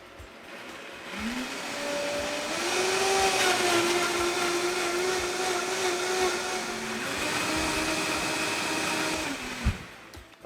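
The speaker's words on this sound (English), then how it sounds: "I'm going to blend these." A blender purees tomatoes for sauce in a steady, loud motor whir that holds for about nine seconds, shifting pitch slightly as the load changes, then cuts off abruptly.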